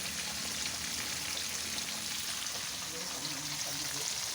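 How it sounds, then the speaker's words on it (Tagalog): Tofu frying in a pan, a steady continuous sizzle and crackle filling the whole stretch at moderate level, close by, with no clear talk over it. "Ayan, tokwa para masustansya, prito."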